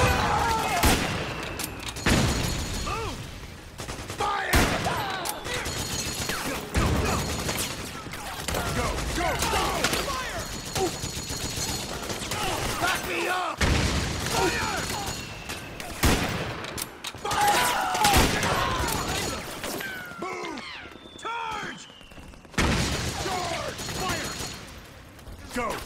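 Dense, continuous gunfire from Metal Gear Solid 4: Guns of the Patriots, with rapid bursts and repeated sharp shots that rise and fall in a chaotic battle mix, and shouted voices mixed in throughout.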